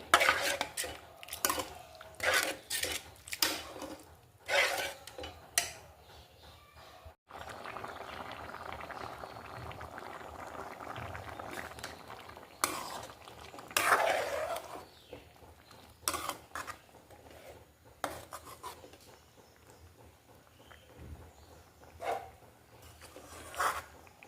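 Kerala-style chickpea curry stirred in a pot as it simmers, with intermittent spoon scrapes and clinks against the pot over a low bubbling, some stretches louder and busier than others, no talking.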